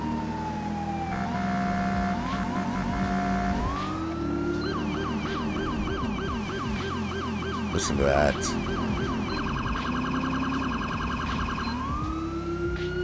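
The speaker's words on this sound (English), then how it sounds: "check out this rumbler siren, or whatever siren that you installed is now in your game" Rumbler police siren in GTA V on FiveM, rising and falling wails that shift into rapid yelping sweeps over a deep pulsing low rumble, loud and continuous, with a brief spoken remark over it.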